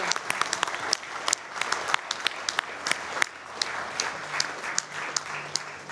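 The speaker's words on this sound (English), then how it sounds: "So let's give them a big round of applause, please" Startup pitch event crowd applauds the sponsor LähiTapiola, a moderate, steady roar of clapping with crisp individual claps popping out close by, continuing evenly for several seconds.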